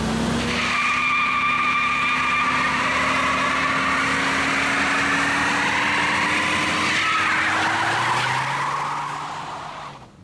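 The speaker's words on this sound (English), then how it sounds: "Well, technically they're one-wheel peels, but still, it's a burnout." A supercharged Toyota Previa minivan does a one-wheel peel burnout, its engine roaring steadily with a long, loud tire squeal rising in pitch over about eight seconds before fading at the end.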